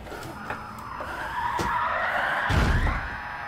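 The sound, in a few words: car burnout in racing video game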